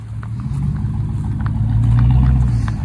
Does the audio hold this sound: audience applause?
no